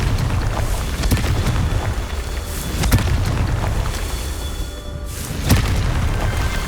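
Confringo blasting spell explosions in the Hogwarts Legacy video game, heard as dense booming bursts over rumbling game ambience, with several sharp cracks spaced through the stretch.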